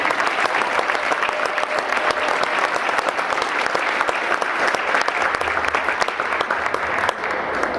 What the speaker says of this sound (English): Please give another round of applause to this year's Mount St. Charles Girls Wrestling Basketball Team